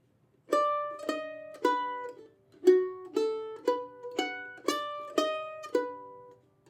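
Plucked mandolin notes, about nine in a slow steady rhythm, each ringing briefly, with the pitch stepping between neighbouring notes; close and clear, no talking.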